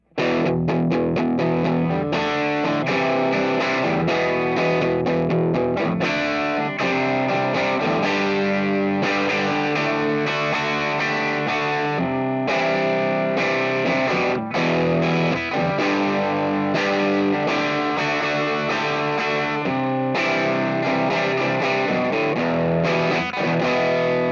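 An electric guitar through a cranked 3rd Power Kitchen Sink amplifier plays loud, dense, heavily distorted chords and riffs continuously, with a thick, saturated tone throughout.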